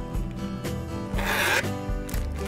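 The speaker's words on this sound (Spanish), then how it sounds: "Con nuestras tijeras hacemos nuestros rizos." Scissor blade drawn along party ribbon to curl it, giving a few short scraping rasps up close, one longer stroke in the middle, with no talking.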